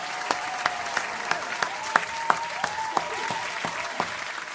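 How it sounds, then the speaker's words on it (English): A short round of applause with sparse, separate hand claps in a steady rhythm, fairly close and moderately loud, over a soft sustained tone, with no talking. "A round of applause to family love."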